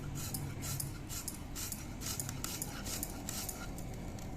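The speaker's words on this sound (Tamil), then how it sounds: "இந்த மாதிரி சின்ன சின்னதாக சிறுவை கட் பண்ணி போடணும்" Banana stem being cut into small pieces with a knife for vada, a steady run of quick, crisp chopping strokes close by, evenly paced throughout.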